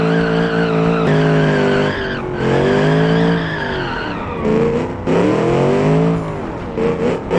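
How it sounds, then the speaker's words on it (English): A car in the BeamNG driving game, with no limited-slip differential, spins a wheel in second gear: loud, near tire squeal and a high revving engine rising and falling in pitch over several seconds, with no talk. "There's the wheel spin in second gear"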